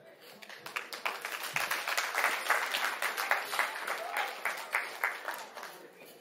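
An audience at a memorial celebration breaks into sustained applause, many hands clapping in a dense, fairly close burst that swells and holds for several seconds, with no one speaking over it.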